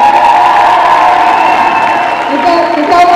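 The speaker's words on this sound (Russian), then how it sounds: "еще раз аплодисменты Егору." An audience at a dance showcase in Russia cheers and claps loudly for a dancer, a dense continuous roar of crowd noise with shouts rising toward the end.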